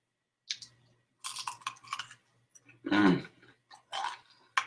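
Someone chews crispy bacon right up close. Several loud, crunchy bursts are separated by brief quiet gaps, and a heavier crunch comes midway.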